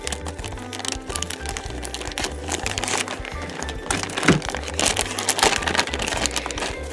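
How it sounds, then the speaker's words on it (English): A Happy Meal toy's plastic bag being cut open, close-up crinkling and snipping with irregular crackles over a steady low background hum. "So let's go ahead and open it up. And I'm just gonna cut it open."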